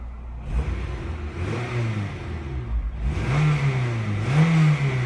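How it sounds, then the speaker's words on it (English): A Honda Integra DC5 engine is revved twice while parked, each blip rising in pitch and falling back, with a steady idle rumble between the revs. Nobody talks. "Let's give it a couple revs, see what it sounds like."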